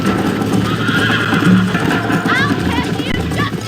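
A horse gallops in the Western video game Red Dead Redemption, with steady clip-clop hooves, neighs and whinnies over constant game ambience, while a voice talks over it.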